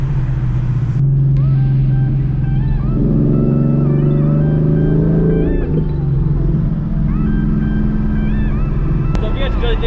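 A 2017 Mustang GT is driven steadily without braking, its engine giving a constant loud rumble and droning whine that rises and falls with speed, while someone talks over it.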